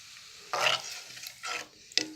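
Tomato extract poured into a hot pan for Tamil-style rasam, with soft sizzling and frying bursts that swell, fade and return in short waves, quiet and close, with no talking.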